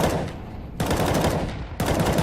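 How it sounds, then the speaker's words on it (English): Desert Eagle pistol fire in the CS:GO video game, three heavy booming shots spaced under a second apart, loud and close with long ringing tails. "Gonna have to crack something open with this Deagle"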